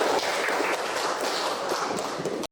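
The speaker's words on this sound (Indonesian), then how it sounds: "Tepuk tangan dulu untuk Kori." A classroom of students claps for a classmate named Kori, a dense, steady patter of many hands filling the room for about two and a half seconds before stopping abruptly.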